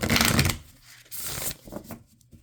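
A deck of oracle cards shuffled by hand in a few quick riffling bursts with brief pauses between, close and fairly soft, with no talking.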